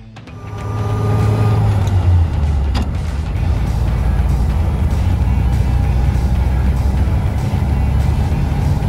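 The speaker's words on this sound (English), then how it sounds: "So we're gonna fire this thing up and we're gonna take it for a ride." A 1929 Pontiac with an overhauled engine cranks over, catches and settles into a steady, loud, close running rumble with a low throbbing note throughout; no one speaks.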